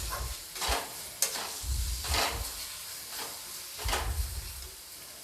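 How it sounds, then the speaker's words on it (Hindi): Whole spices and asafoetida frying in hot oil, a quiet sizzle with repeated scraping stirs at an irregular rhythm, close and alone without talk. "हींग डालने के बाद मैं मसालों को तेल छूटने तक"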